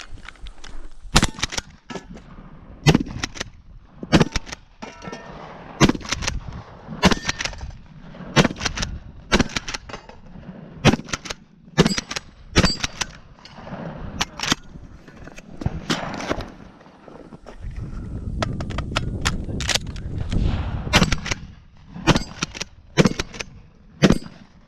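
Rapid gunshots ring out at a 3-gun shooting competition, loud sharp reports in irregular clusters across the whole course of fire, with shuffling movement and a rumbling stretch near the end.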